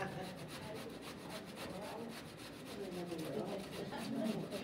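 A hand grater scrapes food in a steady, continuous rasping rhythm throughout, close and fairly loud, growing slightly stronger toward the end, with faint talk in the background.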